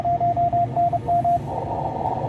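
Amateur radio station received on a shortwave receiver: a strong, steady tone keys on and off in Morse-like bursts over a hissing band noise, then stops, leaving only static.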